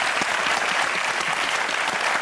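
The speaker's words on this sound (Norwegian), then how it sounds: "En stor applaus til dem." Steady, dense applause from a studio audience welcoming two guests from Chechnya on a Norwegian comedy show, loud and continuous throughout with no talk over it.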